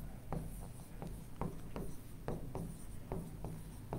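Marker squeaking across a whiteboard during a math lesson on straight lines, with a steady run of about ten short strokes close up, alone with no talk.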